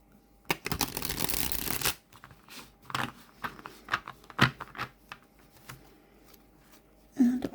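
Glossy tarot cards being overhand shuffled, a dense riffling burst at first and then a run of quick separate card slaps and flicks, close and clear with no talking.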